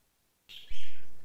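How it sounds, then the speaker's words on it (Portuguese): Plush-crested jays call at a bird waterer: a sudden loud, harsh bird call bursts in after a quiet start and holds close and strong for under a second, with no talk. "E as gralhas cancão também não perdem tempo."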